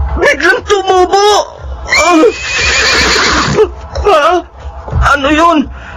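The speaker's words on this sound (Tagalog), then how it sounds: "Parang ingay ng isang kabayo." Horse neighing repeatedly outside a house at night, several loud shaky whinnies rising and falling in close succession, heard near and prominent with no talking.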